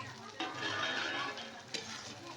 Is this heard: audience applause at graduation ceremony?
no